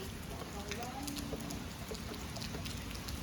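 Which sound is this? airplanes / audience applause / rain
rain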